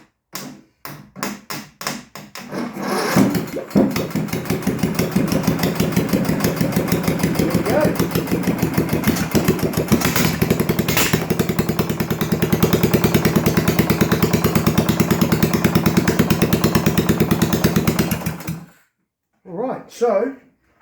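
A 31 ci engine cranks, catches with a pop and a bang, then settles into a loud, steady idle that runs close up for most of the clip before cutting off, with a few brief sounds after.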